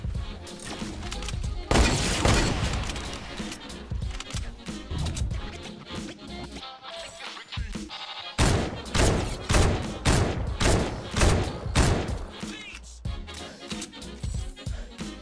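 Rifle fitted with a thermal scope firing in a video game, loud repeated shots in dense bursts across the whole stretch, with short pauses between volleys and a voice talking over the gunfire.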